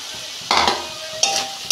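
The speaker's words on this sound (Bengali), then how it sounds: "দেখুন বন্ধুরা আমি কষতে নিয়েছি সবজিগুলো।" Vegetables sauté in a pan with chili and cumin powder, producing short bursts of close sizzling and stirring over a quiet crackle.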